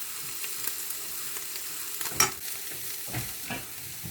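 Ingredients for a baked eggplant platter, with salt, black pepper and raisins, are stirred together in a pan, a soft steady sizzle under a few scraping utensil strokes and one sharper knock midway.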